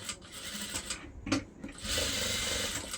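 Sewing machine stitching a trouser zipper, with a short whirring run of stitches, a brief clunk, then a steadier mechanical hum close by.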